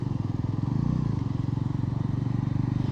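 A Bajaj Pulsar NS 400Z motorcycle, 2025 model, being ridden, its engine running with a steady loud, throbbing drone throughout and no speech.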